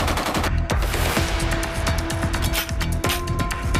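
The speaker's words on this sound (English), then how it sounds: "perhaps the most recognized assault rifle in the world" Kalashnikov assault rifle gunfire, loud rapid bursts of shots repeating close together over a constant noisy background.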